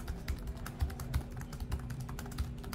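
Someone types on the keyboard of a Lenovo Legion gaming laptop, giving a quiet, steady stream of soft key clicks with a few heavier taps, close up and with no voices.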